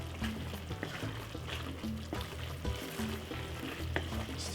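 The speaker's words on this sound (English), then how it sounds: "Still a nice lovely stir fried veg" Vegetables stir-frying in a pan for a Caribbean pepper steak, a steady close sizzle and crackle with occasional stirring scrapes and clinks, no voices.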